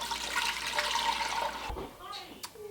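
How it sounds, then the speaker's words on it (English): Water and white vinegar being poured into a cooking pot for a cayenne pepper hot sauce: a steady, close splashing rush that stops abruptly partway through, followed by a few soft clinks and faint sounds. "I'm going to be adding, this is 3 cups of water and 2 cups of white vinegar"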